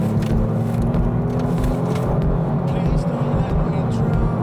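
A Kia Stinger is driven hard through a turn at speed, its engine and road roar a loud, constant low rumble inside the cabin with faint tire and wind noise, while a person talks over it.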